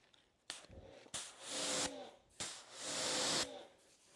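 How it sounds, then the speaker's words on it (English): Bursts of hissing spray as foaming cleaner is sprayed on a driveway, a short one then two long sustained blasts, with faint clattering between them; fairly quiet overall. "I don't want to spray my hand that hard,"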